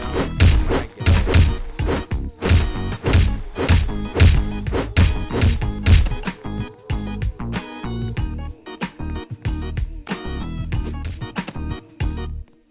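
Wooden stairs being smashed apart in a video game: a rapid run of loud, close thumps and whacks, dense at first, then thinning into scattered impacts and clatter before stopping.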